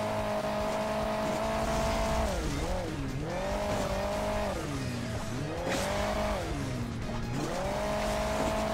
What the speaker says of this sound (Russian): спорткар меня там обгоняет, ребят